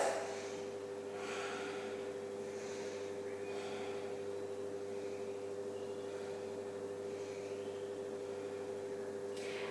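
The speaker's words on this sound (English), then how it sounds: "Breathe into it. Ujjayi breaths." Slow ujjayi breaths during a yoga pose, faint airy inhales and exhales repeating over a steady background hum.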